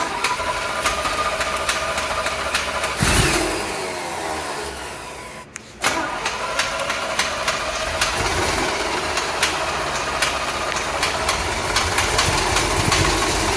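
1975 Chevrolet C10 engine cranking, then firing up and running at a rough, steady idle, loud and close, with a brief dip and stumble midway before settling again.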